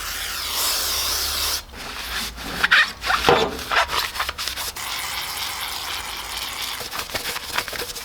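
Brake cleaner sprayed onto a dirty car intake on a G35, followed by close, uneven rubbing and wiping strokes of a rag over the part, no voices.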